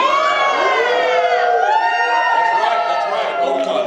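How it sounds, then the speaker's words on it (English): An anime convention crowd at Otakon yells and cheers loudly in a packed room, many overlapping voices whooping together close by. "the crowd goes wild"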